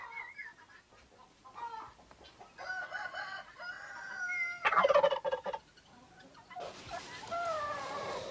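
Farmyard turkeys gobbling in a loud, rattling burst, with other calls and clucks from nearby fowl scattered around it, fairly close and with no voices.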